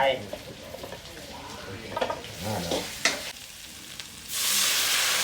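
Fish and whole peppercorns sizzle and clatter as they are tossed in a hot wok, with scraping stirs and a louder hiss rising at the end.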